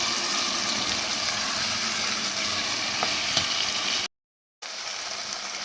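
Vegetables fry in a pan with a loud, continuous sizzle and occasional stirring clicks, close up. The sound cuts out briefly to silence and then resumes just as steadily.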